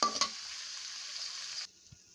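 Shrimp sizzle hard as they hit hot oil in a pan, a loud steady frying hiss with a brief clatter at the start, cutting off abruptly near the end.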